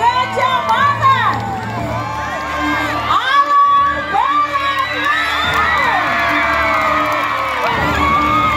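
A large crowd at the Nyong and Nona Alor 2022 pageant at Expo Alor cheers, whoops and shouts loudly and without pause, with shrill rising and falling calls above a dense roar as a voice speaks over the noise.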